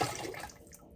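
Ceramic glaze poured over an upside-down teapot, a brief soft splashing trickle of liquid that fades out within a second, faint and close with no voices.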